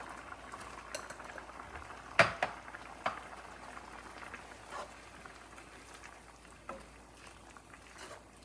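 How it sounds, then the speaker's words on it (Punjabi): Broccoli and carrot soup bubbles in a pot, a quiet, steady simmer broken by a few faint clinks and taps of a utensil against the pot, with no voices heard. "ਇਹਨੂੰ 5 ਤੋਂ 7 ਮਿੰਟ ਆਪਾਂ ਜੀ ਇਹਨੂੰ ਹੁਣ ਬੋਇਲ ਕਰਾਂਗੇ"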